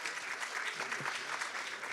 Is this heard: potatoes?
no